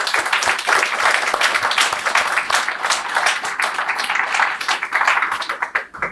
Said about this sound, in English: Can I get a round of applause for the teachers?